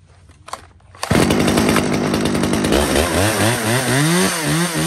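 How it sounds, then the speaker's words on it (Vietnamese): A used chainsaw from a shop's mixed lot of Stihl, Komatsu, Echo and Ryobi saws is pull-started: a few sharp starter tugs, then the small two-stroke engine fires and runs loud and close, its pitch rising and wavering as the throttle is blipped. "cửa hàng chúng em xin phép giật test nổ con này cho các bác nghe qua tiếng máy"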